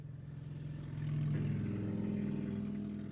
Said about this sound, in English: That's a really loud motorcycle because the road's not that close to my house.